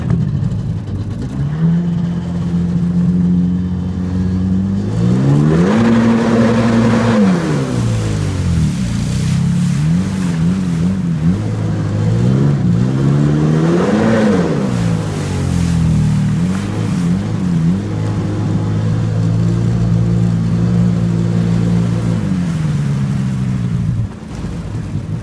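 Engine of a 1995 Sea-Doo GTX jet ski with a bogging fault, loud and close, revving up and down in repeated slow cycles of rising and falling pitch that hold steady between surges, with no talk.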